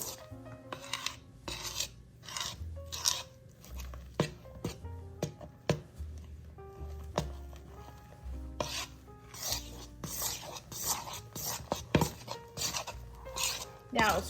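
A Cool Whip candy mixture is folded in a bowl with a spoon or spatula, giving repeated scraping, rubbing strokes and soft clinks against the bowl, with occasional speech in the background.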